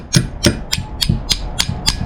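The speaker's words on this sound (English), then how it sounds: "All you need is like a hammer. Tap it out just like this. Just light taps" A hammer gives light taps to a sprocket to work it out of a centrifugal clutch. Seven sharp, evenly spaced metallic knocks come close and alone, roughly one every quarter second.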